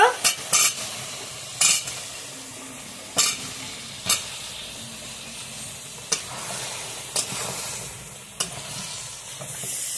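Pumpkin pieces for a chicken curry with vegetables sizzle and fry in a pan, a steady close sizzle broken by sharp, irregular clinks of a spatula stirring against the metal.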